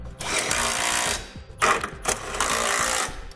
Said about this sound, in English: now we'll tighten down all of our hardware using a 19mm socket